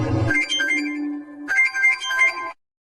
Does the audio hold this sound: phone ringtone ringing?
yes